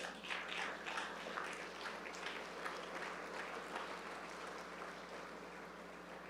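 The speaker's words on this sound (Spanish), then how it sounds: "dale un aplauso a Dios" A church congregation applauds God during a Spanish-language sermon, a steady wash of clapping that stays faint and distant throughout, with no voices rising above it.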